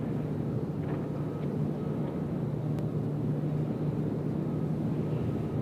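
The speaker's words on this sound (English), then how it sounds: "We got Delta taking off over there on 20 left" Delta airliner taking off from runway 20 left at Nashville International Airport, heard as a steady distant jet roar with broadband rumble and no speech.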